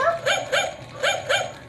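A puppy gives a quick run of about five short, high yaps and yips, close to the microphone and loud, with brief gaps between the bursts and no talking.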